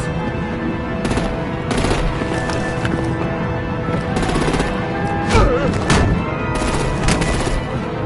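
Steady gunfire and artillery in a Batman: The Enemy Within battle, rapid shots and bursts running throughout over rumbling game sound and music, with a few sharper blasts near the middle.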